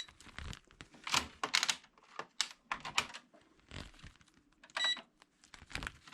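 Buttons on a Passap E6000 knitting machine console are pressed in an irregular run of close, crisp clicks and taps, with short pauses between bursts.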